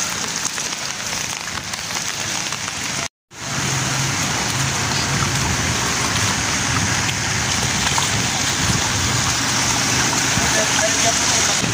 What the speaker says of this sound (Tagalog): Lakas ng ulan at saka ang lakas ng hangin.